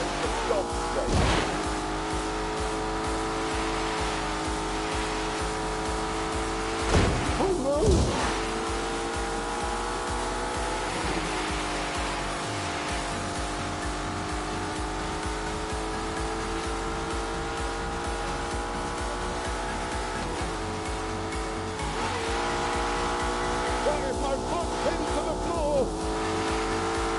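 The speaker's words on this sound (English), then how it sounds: "This is the first Lamborghini to use turbocharging and the first to have an automatic gearbox." A turbocharged Lamborghini with an automatic gearbox drives in The Grand Tour racing video game, its engine droning steadily with shifting pitch and brief surges, under someone talking.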